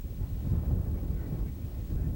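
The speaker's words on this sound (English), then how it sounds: "Very windy, huh?" Steady wind buffets the microphone with a low, rough rumble, continuous and close throughout.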